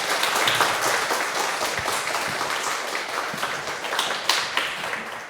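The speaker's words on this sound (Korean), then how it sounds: "박수로 환영해 주시기 바랍니다." An audience at a Korean-Japanese joint retreat applauds to welcome the speaker, a short, continuous patter of many hands clapping at moderate loudness with no talking over it.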